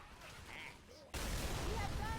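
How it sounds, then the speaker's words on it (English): An explosion in the Left 4 Dead 2 video game bursts in abruptly partway through, a loud broadband blast that gives way to sustained rumbling game noise after a quieter opening. "Ooh, and that explosion makes my screen go white."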